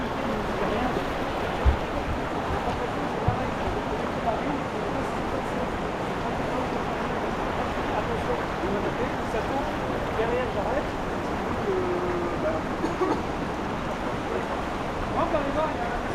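River water pours and churns steadily at a waterfall in the Daluis gorge during a rafting trip, a continuous broad rushing roar with faint scattered knocks and no voices.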